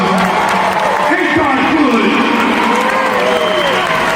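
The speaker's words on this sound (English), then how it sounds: "Let's give God a round of applause, y'all" A television studio audience applauds and cheers loudly as one continuous roar of clapping, with whoops and excited voices mixed in over it.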